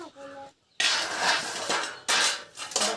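Metal cooking pot clanks and scrapes in a home kitchen as leftover frying oil from puris is put away, a few loud handling bursts separated by short pauses, with a brief voice near the start.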